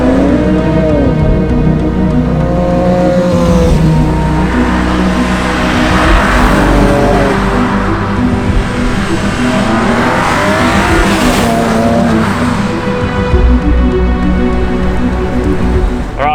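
BMW 335i on its first test drive after an oil leak repair, the engine accelerating steadily with rising revs and a constant loud rush of road and rain noise from inside the car.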